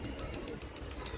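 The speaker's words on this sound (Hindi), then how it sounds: "यहाँ पे एक कबूतर आ रहा है" A pigeon coos close by in a brief, continuous run of low throaty calls, with no talking over it.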